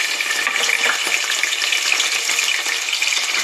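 Peanuts, fenugreek seeds and chana dal crackle in hot oil as a tempering for an amaranth greens fry, giving a loud, close and continuous sizzle with fine popping and no voices.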